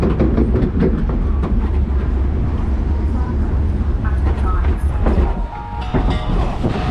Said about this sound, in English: As per every long flume, the rollbacks, anti-rollbacks are very loud.